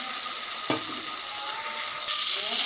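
Onions and tomatoes fry in a pan with a continuous bright sizzle and a brief scrape of stirring, close and steady, growing slightly louder toward the end.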